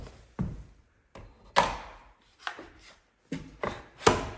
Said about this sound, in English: Back support slides in on the underside of the seat pan.